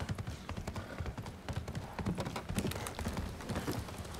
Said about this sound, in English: I thought I was jumping with the horse.